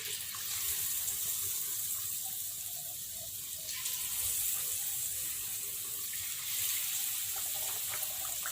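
Banana slices frying in hot oil for crispy Thai fried bananas give a steady, close sizzling hiss with faint crackles throughout.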